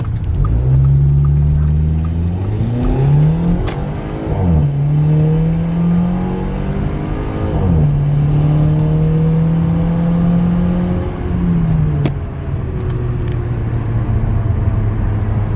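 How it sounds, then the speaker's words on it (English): A car with a race chip and catalyst downpipe revs and accelerates through several gear changes pulling out of a neighborhood, the pitch climbing then dropping each shift, close and loud with a steady rumble. "that was like a quick acceleration right there, just pulling out of the neighborhood"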